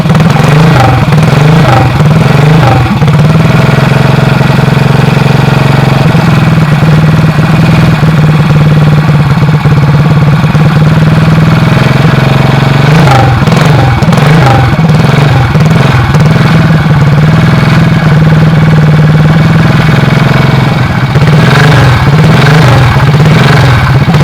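A British-made CCM classic motorcycle engine idling very loud and close in a race paddock, a rough, throbbing rumble with occasional blips of throttle and spoken voices mixed in.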